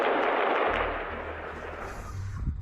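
Gunfire during clashes between Israeli soldiers and Palestinians, a dense, loud burst of shots and booming reports, continuous and close for a couple of seconds before easing slightly.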